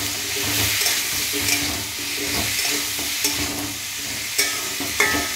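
Turmeric being stirred into food frying in a pan, a constant sizzle overlaid by repeated scraping strokes and a few sharper knocks near the end, close and with no speech.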